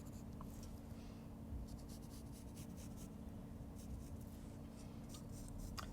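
A pencil draws a heart on the back of a hot melt adhesive sheet, giving faint, close scratchy strokes in short repeated bursts over a quiet background hum.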